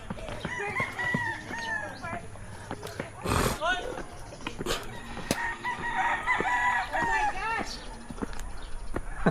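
Roosters crow repeatedly, some near and some farther off, amid farmyard clucking and people talking, at a place full of chickens in Bacolod.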